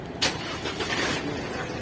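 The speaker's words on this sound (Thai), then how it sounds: "พอครบห้าวิเดี๋ยวปล่อยเลยเขาออโต้สตาร์ทเอง สตาร์ทเครื่องอัตโนมัติเอง" A 2022 Isuzu D-Max pickup engine cranks by remote auto-start and catches abruptly, then settles into a steady low running hum, fairly faint and close.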